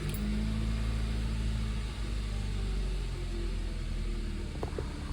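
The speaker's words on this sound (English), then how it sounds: "so I'm gonna start the car now" A 2016 Hyundai Accent engine runs at a steady idle after starting, a low constant hum with a faint whine and no talking over it.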